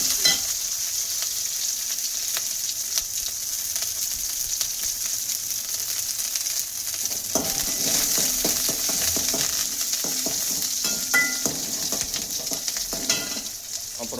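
Curry leaves and mustard seeds sizzle in hot oil for an eggplant curry, a steady frying hiss with occasional stirring scrapes and crackles, close by and without speech.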